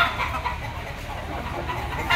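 Gilmore bull stag gamefowl at a Lipa, Batangas gamecock market, with soft clucks and low fowl murmurs under steady ambient noise from other birds nearby, no speech.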